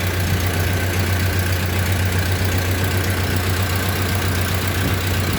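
A Model A Ford pickup truck engine idles while warming up, a loud, steady low rumble with an even mechanical chug throughout, close to the microphone and alone without talk.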